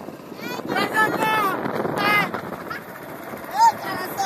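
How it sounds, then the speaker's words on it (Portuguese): A speedboat approaches on the water, its engine drone partly masked by wind buffeting the microphone, while people shout and talk over it. "lá vem a lancha ali, olha"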